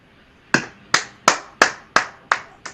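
Seven sharp, evenly spaced claps ring out over about three seconds, close and crisp, each with a short decaying tail; no voices.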